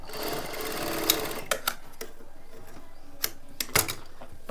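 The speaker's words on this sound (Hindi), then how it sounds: "फिर इसको ऊपर रख लेंगे और यहाँ पर सिलाई लगाएंगे।" A sewing machine stitches a fabric strip for a simple blouse, whirring steadily for about a second and a half before slowing into a few short clattering runs and clicks, close and clear.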